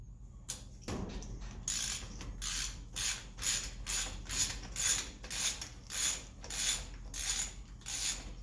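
A socket wrench ratchets on a hub nut of an IMCA modified race car, about a dozen steady, rhythmic bursts of close, crisp clicking over a low workshop hum.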